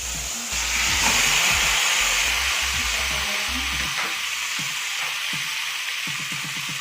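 Rambeu fish dropped into hot oil in a Teflon pan bursts into a loud, close sizzle with crackling spatters, the hiss staying steady while scattered pops and taps continue.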